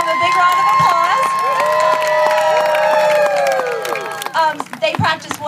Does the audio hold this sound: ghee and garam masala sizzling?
no